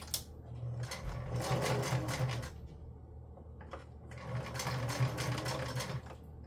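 A sewing machine stitching junk journal pages, running in two quiet steady bursts of fast rhythmic needle clatter with a short pause between them.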